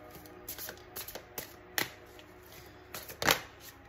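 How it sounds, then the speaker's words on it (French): Tarot cards being shuffled by hand, a series of soft riffling flicks and taps in irregular bursts, close and quiet, with no voices. "Parce que j'avais les cartes de l'ancien tirage dessous qui se suivaient. Donc, je mélange."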